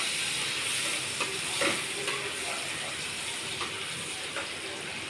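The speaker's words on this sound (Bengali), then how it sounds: "রসুনটা ভালো করে একটু তেলের মধ্যে নাড়িয়ে নেবো" Grated garlic sizzles steadily in hot oil while being stirred, a continuous frying hiss with a few soft scraping clicks of the spoon, close and moderately loud with no talking.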